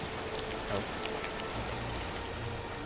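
Rain falls in the video game Disney Dreamlight Valley, a soft, steady patter of drops spread evenly across the whole stretch, fairly quiet and with no talk over it.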